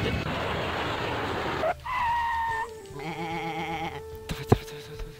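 Sheep bleating in the video game Sheep Dog 'n' Wolf: a loud rush of game noise gives way to a couple of drawn-out, wavering bleats, followed by sharp clicks and effects.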